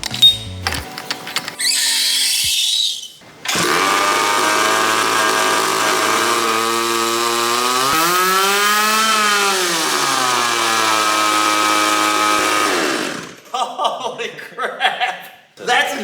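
A 50cc drift kart engine with nitrous, run on test stands, revs loudly and steadily for about ten seconds with one sweeping rise and fall in pitch, framed by brief laughter and clatter at the start and end.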